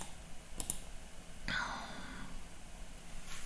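A few soft, sharp computer mouse clicks sound close and quiet, with a brief breathy noise between them as settings for an XMPP client plugin are opened.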